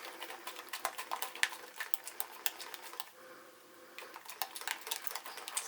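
Thick lava cake batter being whisked by hand in a bowl, giving a close, busy run of quick scraping taps and clinks that pauses briefly midway and then resumes.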